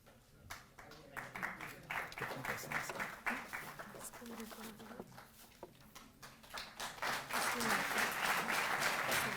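An audience at a Delhi government award ceremony honouring athletes breaks into sustained applause that builds and grows louder toward the end, while a voice talks over the clapping.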